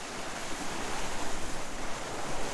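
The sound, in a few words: water waves lapping at the front of a boat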